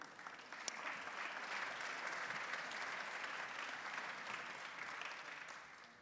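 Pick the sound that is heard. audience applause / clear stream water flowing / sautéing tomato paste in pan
audience applause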